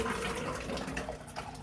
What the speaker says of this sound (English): take it and pour it, hopefully successfully, into a pitcher to make it easier to pour into the bottle